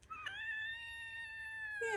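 Cat giving one long, drawn-out plaintive meow, clear and close, sustained for almost two seconds with a wavering tone, alone without talk.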